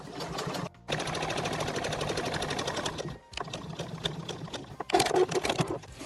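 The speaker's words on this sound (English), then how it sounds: "we're just going to go and sew along those 3 seams" A sewing machine stitches the seams of a bag made from recycled t-shirts and denim in long steady runs of rapid mechanical chatter, broken by brief pauses as the bag is repositioned.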